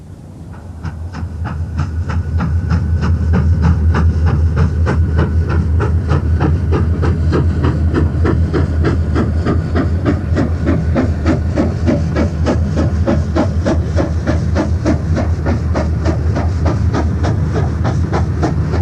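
Steam locomotive 3801 hauling the Western Endeavour toward Kalgoorlie, its rapid chuffing exhaust building up and then pounding in a steady fast rhythm with hiss and rolling wheel clatter, loud and close throughout.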